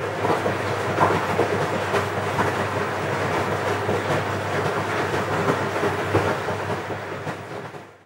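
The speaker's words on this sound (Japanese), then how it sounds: "先に洗いと乾燥の音を流します。" A Sharp ES-X11A drum washing machine runs its wash cycle with a steady rumbling churn and irregular sloshing thumps, continuous and fairly quiet throughout.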